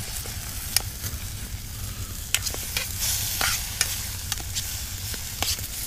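Steak sizzling in a Heavy Cover titanium fry pan, a steady close crackle and hiss with frequent sharp pops and spits, and no talking.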